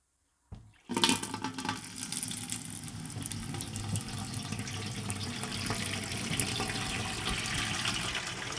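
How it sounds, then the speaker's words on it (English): Water gushes steadily from an outdoor sink tap at an off-grid compost toilet and shower setup, starting abruptly after a brief silence and running loud and continuous to the end. "Let's go try out our sink."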